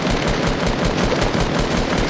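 Rapid gunfire in the Fortnite video game, a dense, continuous loud burst of closely spaced shots filling the whole moment with no pauses.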